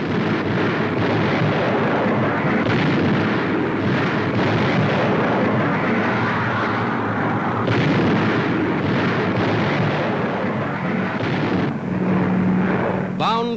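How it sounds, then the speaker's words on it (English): Rumbling bomb blasts from 500-pound demolition bombs hitting a Nazi airfield in Holland, 1944, a continuous dense roar of explosions with aircraft engine drone, loud and sustained throughout. "500-pound demolition bombs landing directly on the target"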